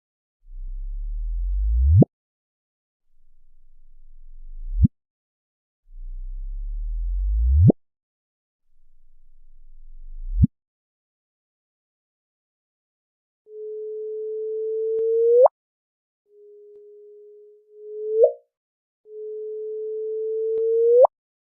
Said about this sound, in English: you can convert that wave signal into sound and hear the difference